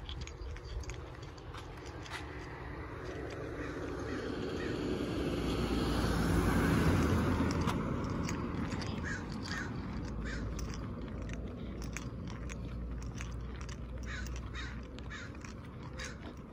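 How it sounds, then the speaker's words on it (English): Raven caws repeat outdoors near a street, set against a broad roar from a passing aircraft that swells and then fades. "There's a raven harassing him."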